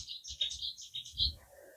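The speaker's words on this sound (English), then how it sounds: "The birds are absolutely loving it." Small birds sing and chirp outdoors beside a carp fishing lake, with a string of bright, close twittering phrases over quiet low rumbles, then softer calls trailing off.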